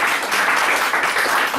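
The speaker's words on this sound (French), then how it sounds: "Gloire à Dieu. Acclamation pour le prophète." A church congregation applauds in a dense, sustained burst of many hands clapping at once, loud and close, for the whole short stretch.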